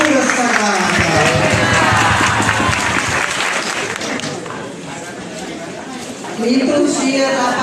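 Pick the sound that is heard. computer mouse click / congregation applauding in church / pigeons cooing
congregation applauding in church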